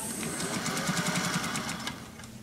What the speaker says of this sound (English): I'm going to stop sewing before I hit that bottom edge